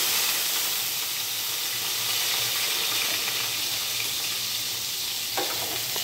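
Mustard seeds and chopped onion fry in a spoonful of hot oil, a steady close broadband sizzle that holds evenly throughout, with a brief stirring scrape near the end.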